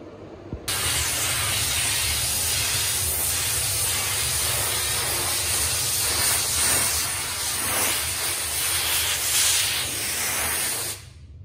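A steam generator blasts steam onto a mosquito-covered car windshield, a loud steady hiss that starts abruptly, runs with slight surges for about ten seconds, then cuts off, with no talking.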